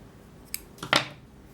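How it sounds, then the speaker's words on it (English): Scissors snip through crochet yarn, a brief light click followed by a sharper double snip, close and clear with no voices. "you can cut your yarn off"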